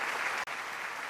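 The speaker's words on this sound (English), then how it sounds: "please join me in offering another round of applause to Dr. Hak Ja-han Moon for her inspiring message" Audience applause for Dr. Hak Ja-han Moon at a Korean War 70th anniversary commemoration, a dense steady wash of clapping with a brief near-silent dip midway before it resumes.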